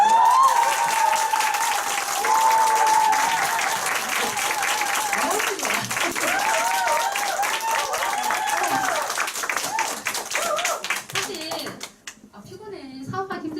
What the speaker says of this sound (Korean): 박수 한번 치고 넘어갈까요?